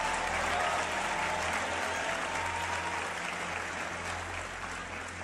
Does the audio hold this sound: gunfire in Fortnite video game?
no